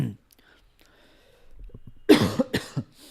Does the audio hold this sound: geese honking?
no